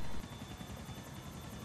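A helicopter in the video game GTA IV, a continuous loud rotor drone with steady thudding blade chop, close and filling the sound.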